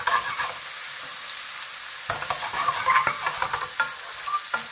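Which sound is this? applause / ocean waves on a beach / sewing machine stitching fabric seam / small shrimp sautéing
small shrimp sautéing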